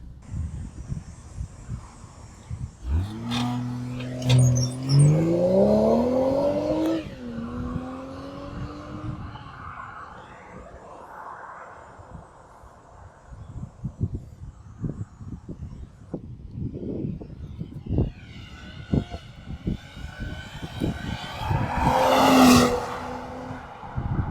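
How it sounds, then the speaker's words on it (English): A BMW X5 hybrid SUV makes a launch start in closed traffic, its engine rising in pitch through several gears with a tire chirp, then a second loud surge of acceleration near the end, with road noise between. "Now we're gonna do a launch in a closed traffic."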